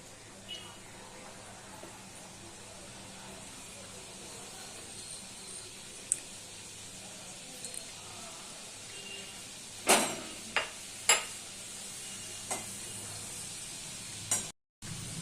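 Nimki dough pieces fry in hot oil with a faint, steady sizzling hiss, joined near the end by a few sharper clinks and knocks from a utensil.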